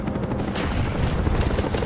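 Cobra attack helicopter in Black Ops multiplayer on the Summit map, a dense rumbling rotor drone mixed with bursts of gunfire and explosions, steady and fairly loud throughout with no voices.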